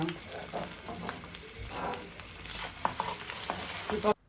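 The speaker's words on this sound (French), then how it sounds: "On prend le temps de faire revenir vraiment de chaque côté les souris d'agneau." Lamb shanks browning in a cocotte pot, a continuous sizzle and crackle of searing meat with occasional clinks and stirring sounds, close and moderately loud, ending abruptly.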